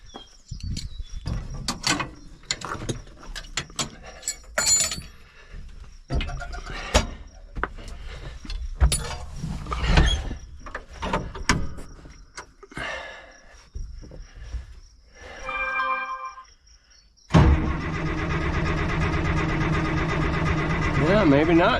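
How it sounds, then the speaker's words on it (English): An International 1586 tractor with a sticking fuel check valve is cranked after scattered clicks and handling noises, its starter grinding steadily and loudly for the last few seconds without the engine catching. "But I'll bet my tractor fires right up now."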